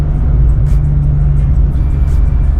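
BMW E46 with a differential swapped in from an X3 rumbles loudly and steadily while driving, a continuous low engine drone with no talk.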